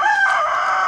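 A rooster crows once at close range, loud and strained, amid hens in a village yard in India.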